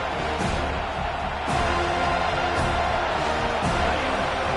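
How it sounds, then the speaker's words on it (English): Football stadium crowd roaring behind the defense on third down in a college football video game, a sustained loud cheer that swells, with a commentator talking over it. "Decibels rising as the crowd gets behind this defense on third down."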